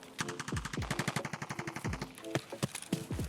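Rapid bursts of automatic gunfire in the game Escape from Tarkov rattle in quick succession, loud and continuous with short pauses, coming from inside a building.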